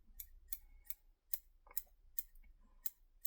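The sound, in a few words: scissors trimming underside of sardine fly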